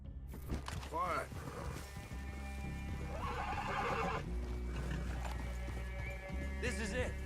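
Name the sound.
horses neighing in video game Red Dead Redemption 2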